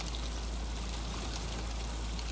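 Steady, full rushing water from a waterfall beside a river in the survival game The Long Dark, a constant broadband wash with no pauses or voices.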